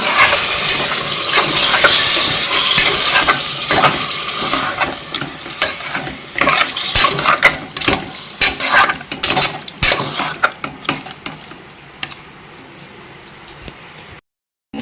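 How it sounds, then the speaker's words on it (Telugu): Country chicken (juttu kodi) curry being stirred in a hot pan, with a loud steady sizzle and frying hiss and repeated scraping strokes of the spoon that thin out into sparser clicks before the sound cuts off. "కర్రీ వేసుకొని ఇలా మిక్స్ చేసుకోవాలి"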